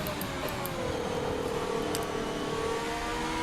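Formula 1 car engine in the F1 2020 video game after a downshift to fifth gear, a steady mid-pitched engine whir held at constant level with slight pitch drift and a few faint high ticks.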